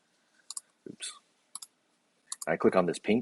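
A few sharp, isolated computer mouse clicks, made while working in Adobe Photoshop, sound close and quiet with short pauses between them. A person starts talking at the end.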